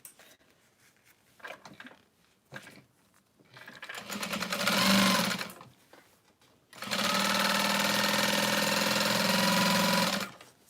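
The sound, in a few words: sewing machine running while sewing a backpack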